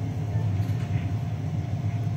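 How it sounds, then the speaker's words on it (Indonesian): A freight train of tank wagons passes through a railway station, giving a steady, close, low rumble with rhythmic wheel noise that continues for the whole stretch. "Ini ada kereta api Ketel."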